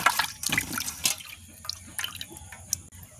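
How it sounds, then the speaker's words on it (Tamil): Peeled homegrown beetroot is washed by hand in water, giving close, irregular splashes, drips and sloshing bursts with quiet gaps between them, no voices. "நாங்கள் ஒருக்கா தண்ணியில் கழுவ வேணும்"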